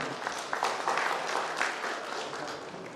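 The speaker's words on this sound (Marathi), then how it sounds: "त्या प्रयत्नांचं कौतुक आपण टाळ्या वाजवून सगळ्यांनी केलं पाहिजे" Audience applause at a Satara district transport association and Mathadi union gathering: a steady wash of many hands clapping, fairly loud and sustained throughout, with faint voices mixed in.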